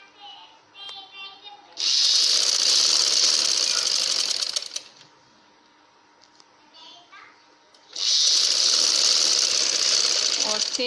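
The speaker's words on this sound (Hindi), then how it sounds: "और सेम इसी तरीके से दूसरी साइड पे सिलाई लगा लें।" A sewing machine stitches a dhoti shalwar in two long, loud, steady whirring bursts with a quieter pause between them, and faint voices come in around the stitching.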